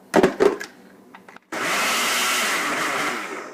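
A blender whirs loudly and steadily while mixing hummus of chickpeas and olive oil, starting abruptly after a couple of knocks and clatters.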